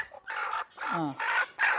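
A red native hen clucks and squawks in short agitated bursts while being caught, close and loud, with brief gaps between calls.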